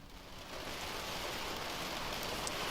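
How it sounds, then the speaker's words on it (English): Heavy rain pours down on a car during a severe storm in Sevier County, with wind picking up, a dense, steady patter drumming on the vehicle throughout. "rain has truly come pour down and the wind is picking up"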